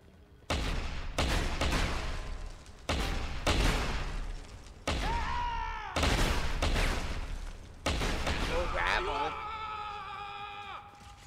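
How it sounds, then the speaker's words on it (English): Gunfire in the video game Deus Ex: Human Revolution, with loud sharp bursts recurring roughly every second or two across the scene, followed by ringing tonal game effects near the end. "Fucking gunshots!"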